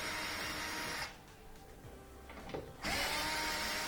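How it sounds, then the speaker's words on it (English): A power drill whines loudly as it backs out screws from the top of a Whirlpool front-loading washing machine, with two bursts of drilling separated by a quieter pause. "Top, we just got to pull these 3/4 inch screws."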